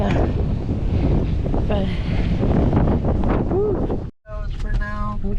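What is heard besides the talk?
strong wind blowing, wind noise on microphone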